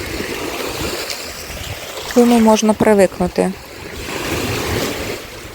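Sea waves wash onto a sandy beach in Chornomorsk on a cool day, a steady broadband surf wash running throughout while a person speaks briefly in the middle.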